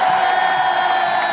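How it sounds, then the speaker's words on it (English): A crowd cheering and whooping, a dense, steady roar of many voices heard up close for a brief moment with no break. "as he heads towards the crowd does what? They cheer."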